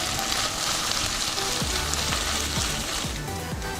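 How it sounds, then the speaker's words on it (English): Ginger garlic paste sautés in a pan with a steady, dense sizzle and crackle, close and continuous throughout. "For 1 minute, just saute it."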